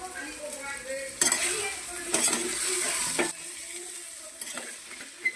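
Cooker-boiled potatoes fry in a pan with a soft, continuous sizzle, interrupted by bursts of metal spatula scraping and clanking against the pan, heard up close without speech.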